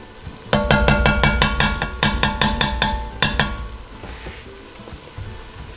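Vodka sauce for stuffed shells sizzles and fries loudly in a pan, steady bubbling hiss broken by a series of quick rhythmic metallic clicks of a utensil stirring against the pan, close up, without talk.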